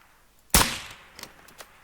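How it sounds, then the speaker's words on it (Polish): A single sharp air rifle shot in the video game theHunter: Call of the Wild, followed by a few faint clicks and taps trailing off. "Próbuję tutaj polepszyć strzał z wiatrówki."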